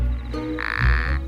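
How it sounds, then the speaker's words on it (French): An Arabian toad gives a single loud, buzzing mating croak lasting about half a second, close by, after a moment of quieter background. "Il doit donner de la voix pour chanter une sérénade aux femelles."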